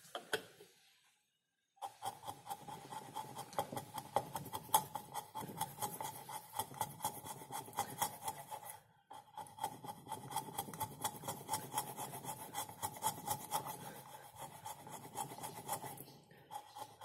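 A wooden hand plane's dried-out, loosened block is dressed down with repeated rasping strokes, a steady rhythmic scraping close up, paused briefly twice, with no voice over it.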